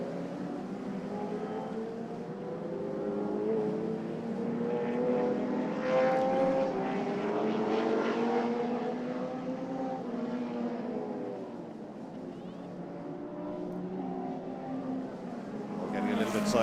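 Historic race cars, including a Chevron and a McLaren M1A, battling on circuit at the Carole Nash Historic Festival, a pack of engines droning and shifting at middle distance under a commentator's voice.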